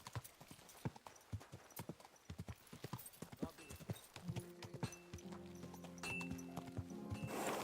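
Horse hooves clip-clop in rapid rhythmic strikes in the video game Kingdom Come: Deliverance 2, with an occasional whinny and tonal game music rising toward the end, sounding close and lively.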